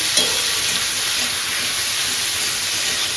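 A vegetable curry is stir-fried in a pan, giving a loud, dense, unbroken hiss of sizzling with a faint scrape near the start and no talking.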